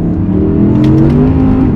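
A rear-wheel-drive Audi R8 engine roars loudly as the car accelerates hard, its rising, rasping howl climbing steadily in pitch as it revs up through the gear.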